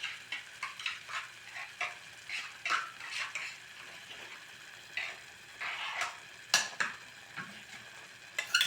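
Raw ground masala paste fries in hot oil for a vegetable kurma: a steady sizzle broken by repeated light scrapes and clicks of stirring, close up with no voices.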